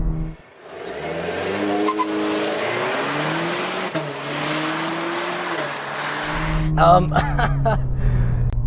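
A 2021 Cadillac CT4 Premium Luxury with 310 horsepower launches hard with traction control off: the engine roars and climbs in pitch through a gear change, loud from inside the cabin, with excited voices exclaiming toward the end.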